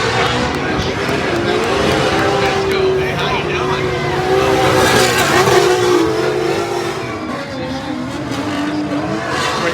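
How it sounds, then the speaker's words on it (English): A turbocharged drift car at a Formula Drift event roars continuously in the distance with rising and falling revs and tire squeal. Spectators talk over it. "You ain't hear that turbo smooth?"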